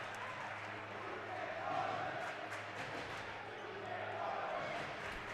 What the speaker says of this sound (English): It's a rowdy crowd getting into it.